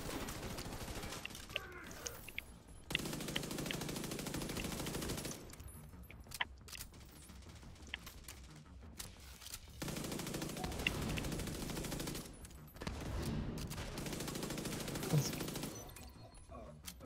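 Enemy machine gun fire in The Division 2 co-op campaign, dense sustained bursts with short pauses between volleys, loud and continuous over the game mix.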